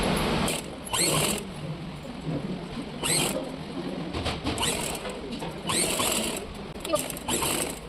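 A sewing machine stitching a collar Panjabi dress, its fine rhythmic whirr running in repeated short bursts over a steady background hum in a training class.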